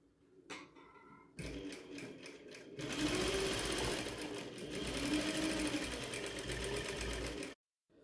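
A sewing machine stitching recycled fabric for a scrunchie runs in a steady, loud, rapid mechanical patter close by, briefly starting at one speed, then settling into a faster continuous run before stopping abruptly.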